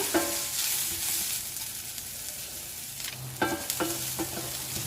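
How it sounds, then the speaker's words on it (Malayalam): Sliced onions frying with a pinch of salt until light golden, a continuous close sizzle broken by a few sharp stirring scrapes of a spoon against the pan. "സവോള വേഗം വഴന്ന് കിട്ടാൻ വേണ്ടി ഒരു 1/4 ടീസ്പൂൺ ഉപ്പും കൂടെ ചേർത്തിട്ട് ഒന്ന് ലൈറ്റ് ഗോൾഡൻ കളറാകുന്നവരെ വഴറ്റിയെടുക്കുക."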